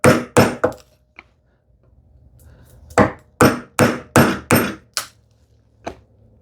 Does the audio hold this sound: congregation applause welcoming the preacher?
no